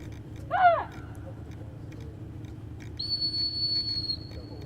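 A sheepdog handler's come-in whistle sounds at a herding trial: a short warbling blast followed by a long steady high whistle, heard clearly over the low background hum of the field.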